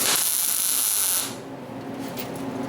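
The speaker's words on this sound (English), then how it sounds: "Now we're going to weld the J-hooks" Steady broadband hiss and crackle of a welder joining J-hooks onto a trap, loud for about a second before dropping to a quieter continuous buzz with faint crackles.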